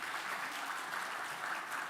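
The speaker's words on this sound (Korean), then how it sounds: "우리 박수 한번 부탁드리겠습니다." A church congregation at a Sunday morning service in Ulsan applauds after a new-member completion certificate is presented, a dense, even burst of clapping that fills the room and carries no voices.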